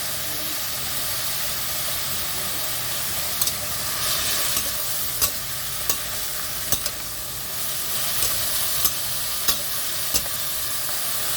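Chayote stir-frying in a pan with seasoning and salt, a steady close sizzle with scattered sharp clicks of a utensil scraping and stirring throughout.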